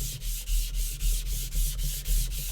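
A rust eraser scrubs a Zwilling chef knife blade in quick, even back-and-forth strokes, about four per second, close and dry with a gritty rasp and no talking.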